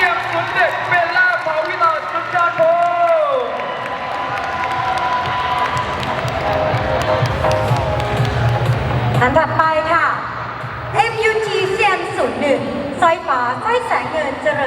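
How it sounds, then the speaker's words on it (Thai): An audience cheers and applauds at the Miss Universe Thailand Chiang Mai 2024 final show, a loud, sustained wash of crowd noise with whoops and shouts. Voices speak over it as it rises and then tapers. "ขอเสียงปรบมือหน่อยกับ MVP"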